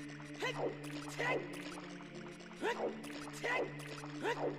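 A character wades and swims through a small waterway inside a well in Zelda Ocarina of Time, producing about four evenly spaced splashing strokes over a low steady hum.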